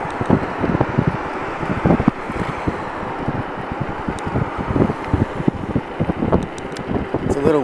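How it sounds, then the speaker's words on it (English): Wind buffets a microphone outdoors on a city overlook, giving a loud continuous roar with gusty low thumps throughout while a person talks over it. "It's a little windy, I hope it doesn't blow off my hat."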